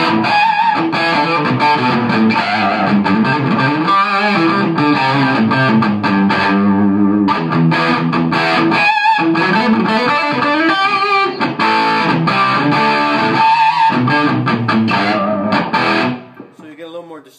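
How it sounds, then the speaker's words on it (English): A Carvin V3M guitar amp on a high-gain setting with the middle voicing plays a loud distorted riff of chugging chords and sustained notes, continuous for most of the passage before cutting off near the end. "So you get a little more distortion there, even on the middle voicing setting."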